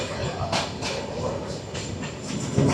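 Sundarban Express train rolling away from Talma station, a steady rumble and hiss with faint rhythmic clicks of the wheels on the rails, continuous and fairly close.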